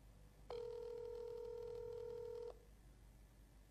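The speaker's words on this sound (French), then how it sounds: "yango wana ezako sonner à vide le frère Matou Samuel azako répondre." A phone rings unanswered on a call: one steady electronic ring tone holds for about two seconds, then cuts off, leaving a faint hiss, with no voices.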